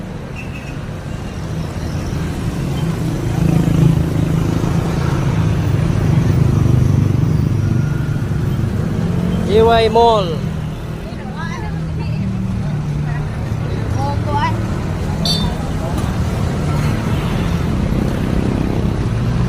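Road traffic at JY Square in Cebu on an afternoon, with a steady rumble of cars, buses and motorcycles, a passing horn or squeal in the middle, and a person talking over it.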